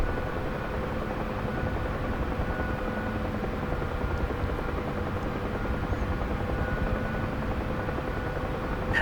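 Helicopter in a flight video game during a stormy night landing, a steady droning rotor and engine roar holding constant throughout, close and unbroken, with no talking.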